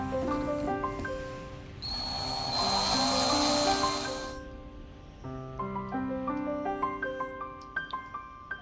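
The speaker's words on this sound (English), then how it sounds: "To drill a hole." A handheld drill bores a hole for a kids' at-home science experiment, giving a brief steady whirring burst of about two seconds over ongoing background music.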